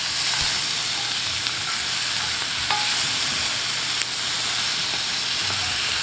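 Onions for a bunless Philly cheesesteak fry in a well-seasoned cast iron skillet, giving a loud, continuous, close hiss with a few faint clicks and scrapes over it and no voices.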